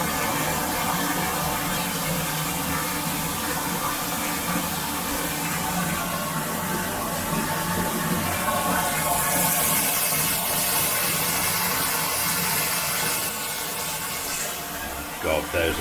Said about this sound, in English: God, there's a hell of a lot of water going in here.